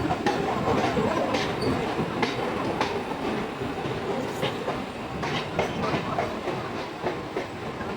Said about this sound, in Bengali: আমাদের ট্রেন কিন্তু বর্ধমান জংশনের 4 নম্বর প্ল্যাটফর্মে ঢুকে পড়েছে